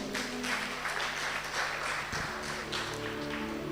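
An audience at a sermon claps steadily, a dense, continuous wash of applause that holds level for a few seconds over a low background hum.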